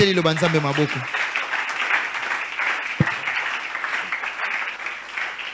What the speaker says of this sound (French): On applaudit la parole de Dieu.